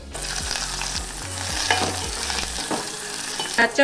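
Loud, continuous sizzling as tempering spices and dried red chillies hit hot oil, with occasional stirring scrapes and pops.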